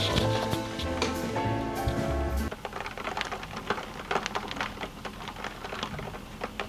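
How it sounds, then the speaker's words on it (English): Rain falls outside open windows, a dense patter of drops that begins under a low hum and then spreads into a steady close hiss of scattered taps and splashes. "Oh, it's starting to rain. Can you hear the rain?"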